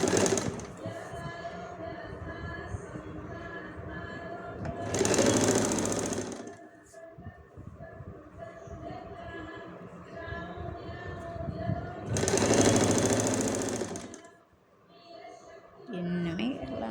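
A sewing machine stitches the folded cross piece onto a waistcoat neckline in two loud bursts of rapid running stitches, each a second or so long, with someone talking quietly in between.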